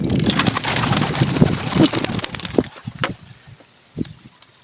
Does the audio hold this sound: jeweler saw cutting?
no